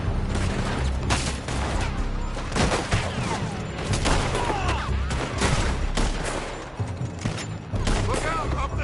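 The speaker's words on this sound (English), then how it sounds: "They're shooting from that building." Gunfire pouring from a building in Red Dead Redemption 2, dense volleys of loud rifle and pistol shots cracking in rapid succession for nearly nine seconds, with voices shouting amid the shooting.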